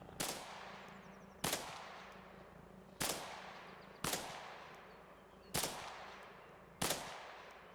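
Six evenly spaced sniper rifle shots in Arma Reforger, each a sharp loud crack with a decaying tail, repeating roughly every one and a half seconds over quiet background.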